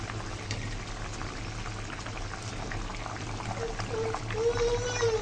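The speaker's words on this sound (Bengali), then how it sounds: "বেগুন আর আলু দিয়ে ঝোল দিয়ে দিয়েছি এখন এই যে কিছুক্ষণ রান্না করার পর মাছগুলো দিয়ে দিলাম" An eggplant and potato curry simmering with fried fish just added, giving a steady close bubbling and sizzling hiss that swells slightly toward the end.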